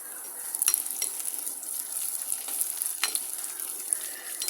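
Onions, curry leaves and rampe leaves fry in a pan with a steady close sizzle, broken by intermittent scraping clicks as they are stirred; no voices.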